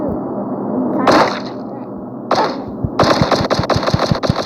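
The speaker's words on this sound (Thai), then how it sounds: "ปืนนี้เสียงมันหวกหูนิดหน่อย" Two sharp single pistol shots a second apart in the video game Flat Zombies, then a fast string of rapid shots, loud and close.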